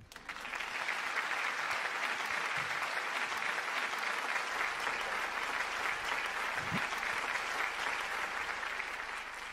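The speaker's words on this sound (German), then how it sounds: "begrüßen wir erstmal mit einem ganz großen Applaus" A large crowd applauds loudly and continuously, a dense wash of clapping that holds steady for several seconds without talk.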